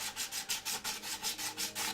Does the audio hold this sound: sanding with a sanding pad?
yes